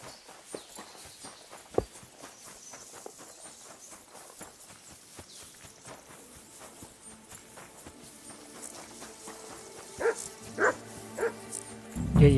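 Mutt the dog barking in Kingdom Come: Deliverance II, several sharp barks near the end over game ambience with footsteps and hoof clip-clop earlier.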